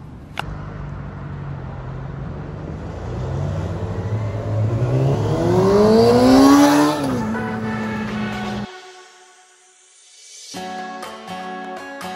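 A Yamaha R6 motorcycle ridden through downtown streets, its engine revving up loud and close in a rising whine before cutting off abruptly, followed by quieter mixed sounds.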